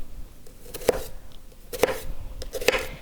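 Knife cutting into an onion on a board: three crisp, separate chopping taps about a second apart, close and fairly quiet, with no talk.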